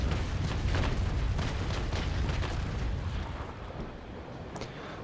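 Ship cannons fire in a Naval Action naval battle, a dense roll of overlapping booms and rumbling blasts that gradually thins and fades.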